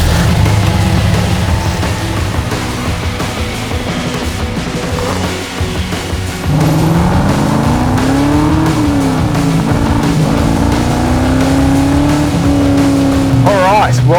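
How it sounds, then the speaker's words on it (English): A 2003 HSV GTS Coupe's naturally aspirated V8 runs steadily and loud, its note rising and falling as the car pulls away and drives. A voice talks over the engine throughout. "Have a listen to that naturally aspirated V8"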